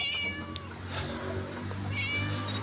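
A cat meows twice in a video game about rescuing a kitten from a teacher, short close mews over a steady game hum with no talk.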